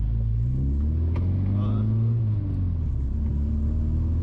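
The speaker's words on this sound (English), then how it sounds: "Let's see if it'll spin in second." A Honda EK Civic with a swapped H22A engine on small tires pulls hard in gear, its loud, close engine note droning with a low harmonic rumble throughout.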